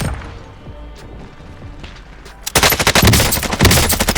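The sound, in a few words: gunfire in the video game Warzone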